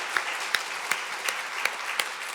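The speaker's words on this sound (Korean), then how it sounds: "한번 격려의 박수" A church congregation at a Sunday service applauds the Zion choir, giving brief, even applause with a few sharper individual claps standing out.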